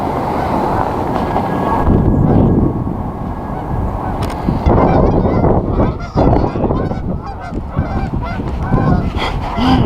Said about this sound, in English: Those geese just came right over top of us.